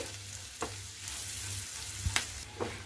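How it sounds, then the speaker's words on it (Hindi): Gram flour stirred with onions in a pan for a spiced onion sabzi gives a soft, steady frying hiss with a few scraping strokes of a spoon, close and alone. "अब हम इसमें 1 टेबल स्पून बेसन ऐड करेंगे। प्याज के साथ इसे भी हम भून लेंगे।"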